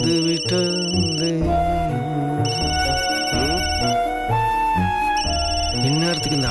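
A mobile phone rings with an incoming call in a Tamil TV serial scene, its bright repeating electronic ringtone pattern playing continuously and loudly over dramatic background music.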